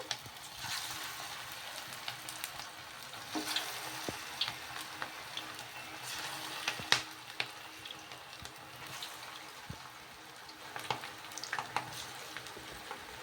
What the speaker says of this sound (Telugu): నూనె బాగా వేడెక్కిన తర్వాత మనం చేసి పెట్టుకున్న ఈ వడలను అయితే వేసేసుకోవాలి